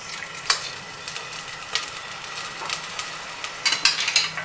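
Onion, garlic and ginger fry in half a cup of oil for a carrot, potato and peas curry, giving a steady sizzle broken by repeated scraping stirs of a spoon against the pan.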